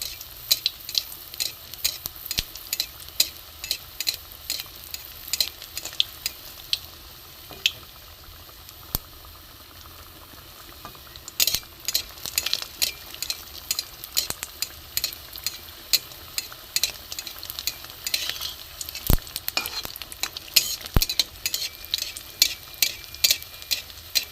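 Pitha frying in hot oil over a low flame, a steady close sizzle with scattered crackles and pops running throughout, louder bursts in the second half.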